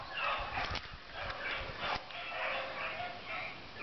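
Hunting dogs out on a rabbit hunt bark and yip in scattered bursts, somewhat distant and muffled, with outdoor noise around them.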